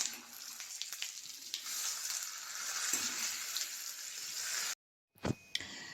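Hot tempering with curry leaves poured into a Kerala curry, a steady bright sizzle and crackle lasting several seconds before cutting off, followed by a couple of faint knocks, close and moderately quiet.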